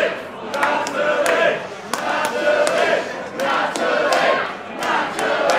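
A wrestling event crowd cheering and chanting in a large arena, a loud sustained roar rising and falling in rhythmic waves, punctuated by regular sharp claps or stomps throughout.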